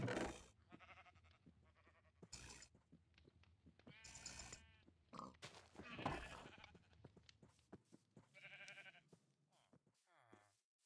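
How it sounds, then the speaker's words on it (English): Sheep bleat repeatedly in Minecraft over a busy mix of other animal noises and effects, with a few short bleats close by. "brown sheep everywhere"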